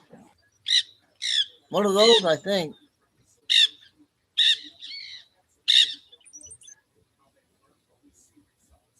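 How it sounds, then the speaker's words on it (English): A pet bird gives a string of short, shrill squawks and chirps, spaced a second or so apart and fairly close, with someone briefly talking between the calls. "She has a bird."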